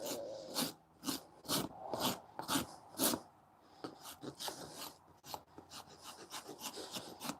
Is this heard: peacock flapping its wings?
no